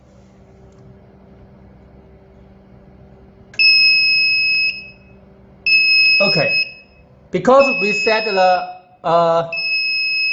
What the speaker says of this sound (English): So when the measuring temperature is 20 degrees higher than the setting temperature, the over temperature alarm will shouting.